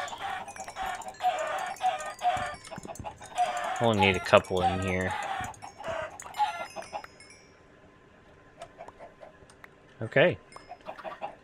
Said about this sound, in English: So let's kill some of these chickens.